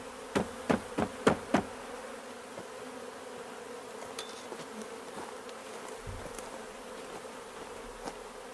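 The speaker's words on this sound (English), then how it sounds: "And a few bees left here." A steady, low hum of honey bees buzzing close around a hive during a transfer from a nuc, with a few sharp knocks near the start and occasional louder passes.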